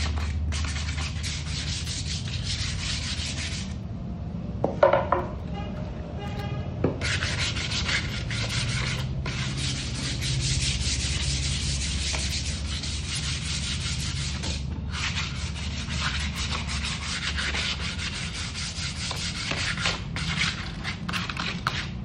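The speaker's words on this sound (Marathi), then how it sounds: "त्याला एकदा सँडिंग करणे गरजेचं आहे, जेणेकरून फिनिशिंग वगैरे बॅटचा बॅलन्स" A wooden cricket bat is sanded by hand with sandpaper to smooth it after machining, giving long steady rasping strokes that continue almost without pause, close and even, with brief breaks.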